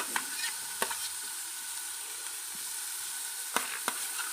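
Green chillies and ginger frying in a pan, a steady sizzle with a few sharp clicks of a spatula scraping the metal, no voices.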